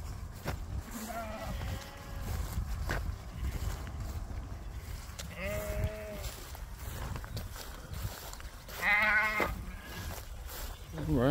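Sheep and goats bleat in a pasture, a few separate wavering calls, some near and one louder, over an outdoor rumble of wind with people talking between the calls.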